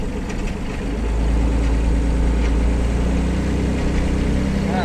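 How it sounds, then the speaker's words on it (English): Idling engine that rattles when put into forward gear, a steady low mechanical drone that grows louder after the first second as the throttle is raised, continuing evenly to the end. "Like a rattling sound when it's in forward."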